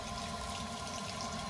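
Water from a $10 on-off shower head in a Sprinter van, a steady broadband hiss of running spray at close range, constant and unbroken with no voices.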